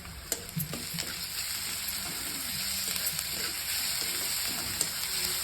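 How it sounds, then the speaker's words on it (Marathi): Chopped onion, green chili and garlic fry in oil, a bright, steady sizzle and hiss heard close up, broken by occasional spoon taps and stirring clinks against the pan, with no one speaking. "हिरवी मिरची आणि लसूण बारीक करून घेतलेली आहे ती पण या बरं छान असं तेलात तळून घेते"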